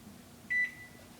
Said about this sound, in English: And now we set the timer for 15 minutes.